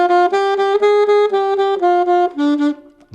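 A saxophone plays a run of detached eighth notes, each one bright and reedy. The notes move in even steps and sound close and loud, with no voices.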